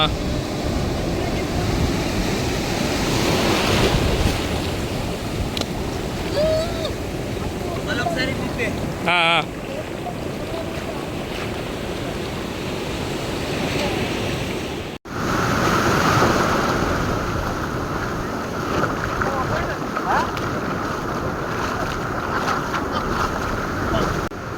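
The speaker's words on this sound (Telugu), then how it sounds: "అలలు ఆగిపోతే స్నానం చేద్దామంటే ఇది ఆగుతలేదు" Sea waves breaking and washing on a beach where people wait to bathe, a loud continuous surf roar with wind buffeting the microphone and voices talking over it.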